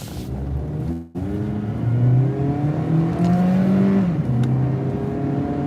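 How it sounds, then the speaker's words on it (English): A Honda Civic with almost 200,000 miles accelerates hard along Highway 51 in Mississippi, its engine note climbing steadily through rising gear harmonics after a brief dropout, loud and close from inside the car. "Pedal to the metal in my Honda Civic."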